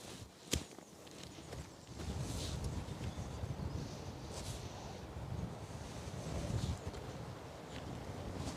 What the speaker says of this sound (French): Le vent est un vrai élément du parcours ici.